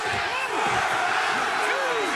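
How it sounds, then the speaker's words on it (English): Arena crowd at an AEW Dynamite wrestling match in Phoenix, a dense, steady roar of cheering and shouting with whoops rising over it, under a commentator's voice throughout. "this crowd here in Phoenix, 90-10 in support of Swerve Strickland"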